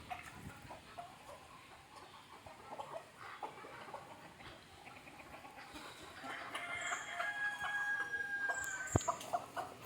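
Country chickens cluck steadily in a morning farmyard, with a rooster crowing over them. The flock stays busy and fairly near throughout, growing a little louder and denser toward the end.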